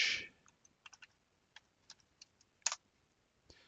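Typing a file name on a computer keyboard: a quiet, irregular run of light key clicks close by, with one slightly louder cluster of presses near the end and no talking.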